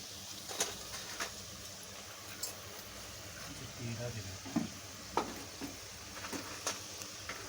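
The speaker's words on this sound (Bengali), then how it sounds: "দেখেছো বন্ধুরা কতটা সুন্দরভাবে ভেজে নিচ্ছি।" Jhuri bhaja, thin strands of gram-flour batter, fry slowly in oil over low heat, giving a soft continuous sizzle with occasional crackles and light stirring clicks, faint and close.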